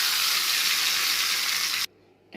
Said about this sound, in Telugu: ఈ పప్పులో పోపు పెట్టేస్తున్నా.